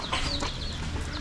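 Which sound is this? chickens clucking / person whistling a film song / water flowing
chickens clucking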